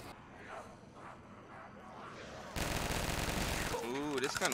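Gunfire in the Black Ops 3 Zombies video game: quieter game noise gives way to loud, dense bursts of rapid shots that hold steady to the end.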